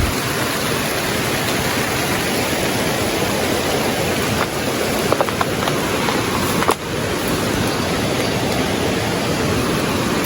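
Steady rain pours beneath a bridge in Bukidnon, a dense, even hiss that fills the whole stretch with a few faint knocks near the middle.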